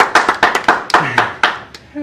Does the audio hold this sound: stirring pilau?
no